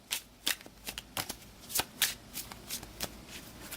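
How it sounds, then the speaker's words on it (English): Referee cards for a boxing board game being shuffled by hand, a rapid series of crisp papery riffles and flicks in quick bursts, close and clear with no talking. "We'll give these a shuffle as well."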